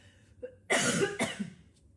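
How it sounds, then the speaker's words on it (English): A single close, forceful asthmatic cough with a second chesty burst right after, over faint room noise. "I'm going to cough again, forgive me."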